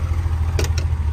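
Engine of a 1995 Porsche 911 Carrera 4 (993) running steadily, a low, even idle rumble throughout with two brief higher-pitched bursts near the middle.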